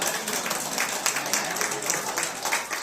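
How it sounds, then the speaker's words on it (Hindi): A group claps for a young girl after she answers a question during a school session on traffic rules. The applause is a steady, moderately loud wash lasting about three seconds, with no talking over it. "स्पेशली इनके लिए तालियां, क्योंकि ये छोटी बच्ची है फिर भी उन्होंने इतना सोचा।"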